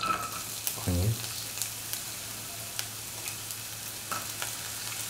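Onions frying in a splash of oil in a pan for chicken noodle soup, a steady low sizzle with a brief louder burst as they go in, with faint scraping and clicks, no talking.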